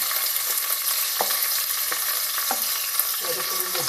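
Cumin seeds and curry leaves frying in hot oil, a close, steady sizzle with sharp crackles and spatters as the spices hit the pan, with no voices.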